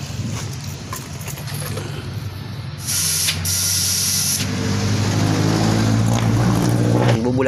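A Jeep radiator with water in it gives a steady hiss and spray-like rush that grows louder partway through, with a low engine hum underneath and faint voices in the background.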